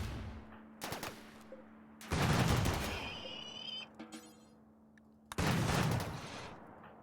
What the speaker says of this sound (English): this corridor is now filling up with bullets